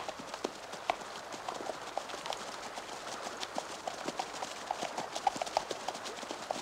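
Horses trot in an old Armenian film scene, their hooves giving a quick, steady clip-clop rhythm of many close, sharp beats throughout, with no voices.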